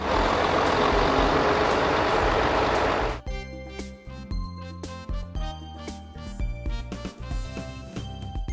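Toy police truck with a jail cell: a loud burst of hissing air noise, then an electronic siren-like tone pattern with beeps and engine effects in a repeating rhythm, close and clear, with no talk.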